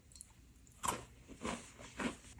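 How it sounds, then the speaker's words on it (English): Crunchy shortbread cookie from a humanitarian daily ration being chewed, three crisp crunching bites in a row, close and clear with no talking. "It's nice and crispy and crunchy."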